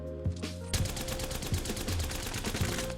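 HAVOC energy rifle in Apex Legends firing a sustained automatic burst after a short pause, rapid evenly spaced loud shots with heavy low thumps, continuing to the end.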